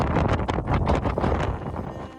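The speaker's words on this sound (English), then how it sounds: "It's very windy!" Strong wind at high altitude on Tasmania's South Coast Trail buffets the microphone in loud, rough gusts, a continuous roaring rumble with no other sounds.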